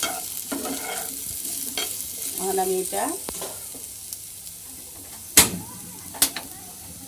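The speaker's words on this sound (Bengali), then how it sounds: "এই যে আমার আলুগুলা সুন্দর করে কিন্তু ভাজা হয়ে গেছে গা।" Potatoes stir-fry in a hot pan with a steady sizzle and scraping under brief nearby talk, followed by two sharp metallic clanks of utensil against pan.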